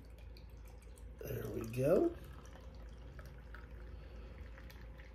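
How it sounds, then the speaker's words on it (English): Black Cap Brewing Gen. Gates Porter is poured into a glass in a short, close gurgling splash lasting about a second, then fades to quiet room tone; someone speaks briefly. "we'll give you all the money shot as I pour"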